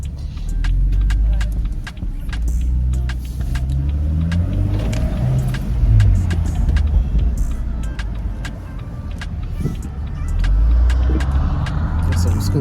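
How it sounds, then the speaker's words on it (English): BMW M135i fitted with a BMS intake, its engine running loud and close with rumbling revs and crackles, people talking over it. "But when the car's cold, it normally pops really loud."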